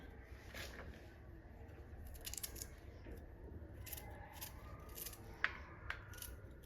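Ginger and garlic being chopped finely with a knife on a board make quiet, irregular tapping cuts over a low, soft background, with one sharper click near the end and no talk.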